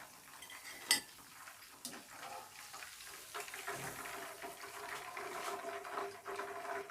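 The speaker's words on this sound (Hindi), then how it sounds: "चिकन को फ्राई होते हुए 10 मिनट हो गए हैं।" Chicken pakora fries in hot oil, a quiet steady sizzle and crackle up close, with a couple of light utensil clinks against the pan and no talking.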